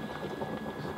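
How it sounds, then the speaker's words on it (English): Water boils in a pot for home-brewing beer, a steady bubbling hiss at close range with no voices. "this is boiling water"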